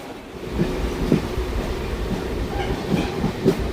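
Local village passenger train from Varetha toward Ahmedabad, heard from inside a general coach as a steady running rumble with rhythmic clickety-clack wheel beats over the rail joints.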